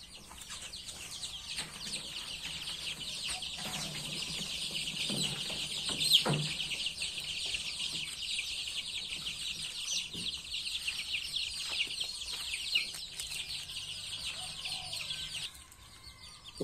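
Baby chicks chirp continuously in a brooder, a dense chorus of high peeping from many birds close by, steady throughout with occasional louder cheeps and faint handling noises.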